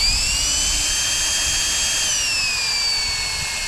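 A rechargeable camping air pump, which doubles as a light, runs with a steady, close motor whine and airy hiss; its high pitch shifts gently partway through, and there is no talk.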